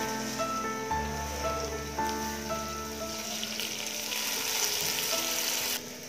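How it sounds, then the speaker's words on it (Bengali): Rice fries in a pan with cloves, bay leaves and other whole spices for Bengali hilsa fish pulao, giving a close, steady sizzle with a few light scrapes and knocks and no talking. "চালটা আমি একটু ভালোভাবে ভেজে নিচ্ছি"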